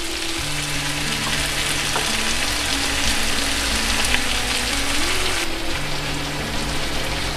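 Raw mango cooks with jaggery in a pan for a sweet mango pachadi, a loud continuous frying sizzle running throughout beneath a soft tonal melody.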